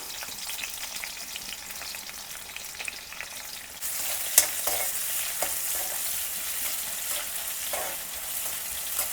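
Chopped onions hit hot oil and crackle into a steady sizzle that jumps louder partway through, with occasional spatula scrapes and stirring taps close by; no one speaks.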